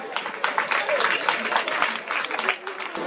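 A crowd claps steadily and loudly for a few seconds, the applause continuous with no voices standing out.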